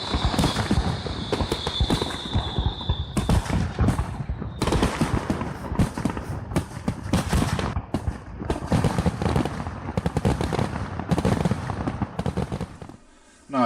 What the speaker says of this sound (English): we were quite surprised to be treated to a fireworks show just outside the door across from the park